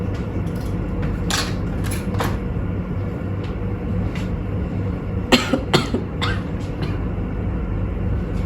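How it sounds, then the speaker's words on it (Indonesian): A few short coughs from a patient during a medical checkup rise over a steady low rumble of background noise, with one cluster of sharper coughs near the end. "ibu mau batuk?"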